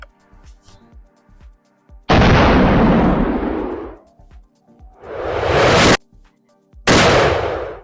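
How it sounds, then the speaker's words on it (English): Three loud rifle shots firing Hornady 240 grain XTP hollow point rounds outdoors, each a sharp blast with a long booming decay, spaced a couple of seconds apart after some quieter clicking and handling noise. "Right now I'm shooting Hornady 240 grain XTP hollow points"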